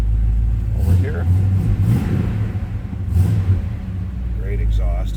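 A 1972 Chevrolet Chevelle SS rumbles through its exhaust at close range, a deep steady idle with a few throttle blips, while a person talks nearby.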